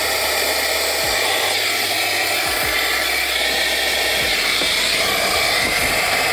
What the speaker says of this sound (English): I'm gonna vacuum up the glass that's in there